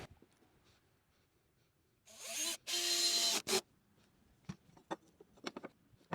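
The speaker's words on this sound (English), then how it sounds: "I'm going to come around and put one in through this side." A power drill drives a screw into 2x4 lumber while a cleaning table is being built, with one close whirring burst of about a second that stops, starts again briefly, and then gives way to quiet handling clicks.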